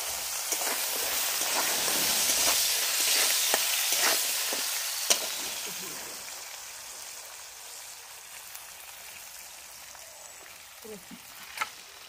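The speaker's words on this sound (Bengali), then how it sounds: "কাঁকড়া আমার ভাজা হয়ে গেছে, তুলে নিই।" Steady crackling sizzle of crab frying in hot oil, loud at first and gradually settling, with a few sharp pops and spatters and no voices.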